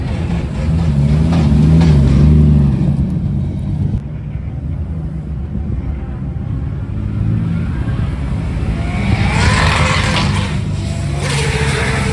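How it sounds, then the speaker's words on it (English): A pink Porsche engine rumbles and revs at a spring track day at Castle Combe circuit, loud and close, with a surge early on and engine noise rising again near the end. "It's a very pink Porsche."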